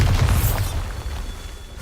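A Bombarda explosion spell in a Hogwarts video game: one deep, close boom that rumbles out and fades over a second or two.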